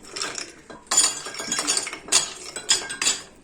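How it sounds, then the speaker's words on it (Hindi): Ice cubes drop into a glass for sharbat, a series of sharp close clinks and clatters in quick bursts over a few seconds. "सबसे पहले मैं इसमें ये बर्फ़ की क्यूब्स डालूंगी"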